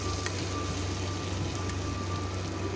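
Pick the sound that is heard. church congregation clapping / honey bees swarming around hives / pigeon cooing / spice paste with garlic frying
spice paste with garlic frying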